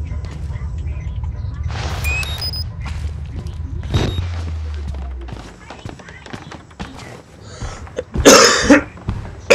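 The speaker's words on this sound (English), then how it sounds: "I apologize for coughing." A person coughs a few times in short bursts, close to the microphone, with horror-game sounds and other noises around it.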